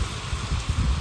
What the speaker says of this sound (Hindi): टाइट बारिश हो रही है।